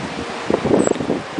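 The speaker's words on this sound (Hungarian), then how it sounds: "Nagyon szeles idő van, de 30 fok" Strong wind on a hot Atlantic Ocean beach, buffeting and rustling loudly against the microphone in steady gusts.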